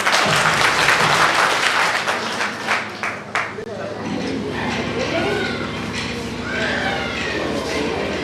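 A crowd at a public gathering breaks into loud, dense clapping that rings out for a few seconds and then tapers off, followed by murmuring and a voice.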